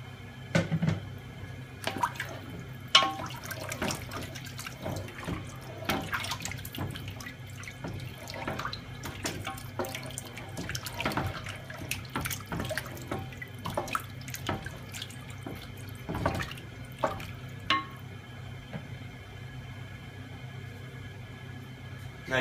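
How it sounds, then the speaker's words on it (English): Water runs steadily into a cooking pot as about 2 liters (8 cups) go in for a yellow split pea and dried lemon stew, a continuous close splashing stream with small drips and clinks over roughly twenty seconds. "So I'm just going to start with about 2 liters of water"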